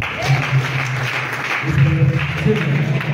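A church congregation claps and cheers in a dense, loud burst of applause, with voices mixed into the crowd noise throughout.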